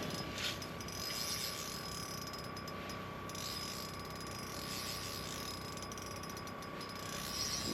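Ice fishing reel for panfish giving out line, its drag ratcheting in a fast, continuous clicking run, close and steady for several seconds with no speech over it.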